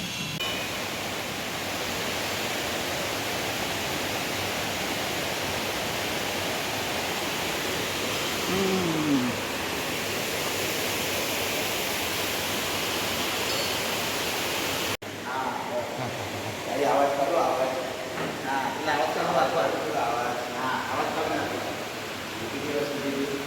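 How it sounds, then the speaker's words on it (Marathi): Steady broadband rushing of a flowing river fills the whole stretch, with brief voices and sounds rising over it near the end. "तिकडून ती नदी वाहत येते"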